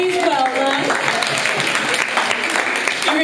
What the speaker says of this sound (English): Can I get a round of applause, this young lady, please?